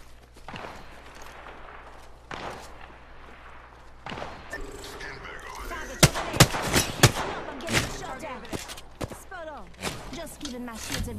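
Gunfire in the battle-royale shooter Apex Legends, with sharp, fairly loud single shots and short bursts clustered in the second half over a steady low background, with voices speaking now and then.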